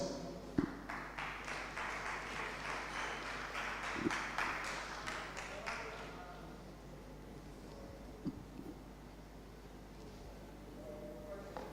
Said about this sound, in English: Let's welcome her with an applause.